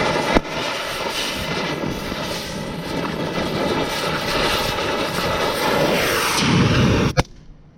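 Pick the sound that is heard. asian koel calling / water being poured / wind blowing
wind blowing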